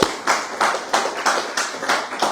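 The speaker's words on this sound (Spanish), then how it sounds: "Démosle un aplauso al Señor por eso que hizo Dios." Rhythmic group clapping from a church congregation, steady unison claps at a brisk pace, fairly loud and close, with no talking over it.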